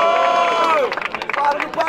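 Crowd at a rap battle erupts in loud cheering and shouts, a dense roar of many voices with scattered claps, with a host's call rising over it at the start.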